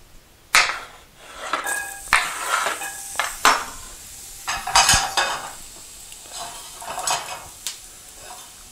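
Potatoes fry in olive oil in a pan, irregular sizzling bursts mixed with close clatter of a utensil scraping and stirring against the pan, no voices.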